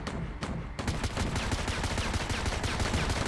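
Rapid gunfire in the mobile shooter game FRAG Pro Shooter, a dense, loud burst of repeated shots that starts after a brief pause and rattles on continuously to the end.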